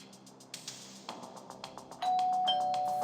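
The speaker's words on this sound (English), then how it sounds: "The sound of the doorbell upstairs made Thomas pause." Doorbell chime used as a sound effect in a spoken story about an 80s cop show, with a short sequence of rings followed by a sustained ringing tone, clear and close.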